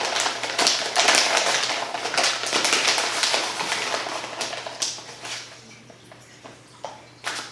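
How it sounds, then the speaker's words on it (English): A cup of baking soda poured into a homemade laundry mix, a close granular rushing and sifting that trails off into scattered light taps and clinks. "Then I'm gonna add in a cup of baking soda."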